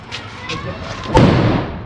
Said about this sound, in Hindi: बस इतना है पटाखा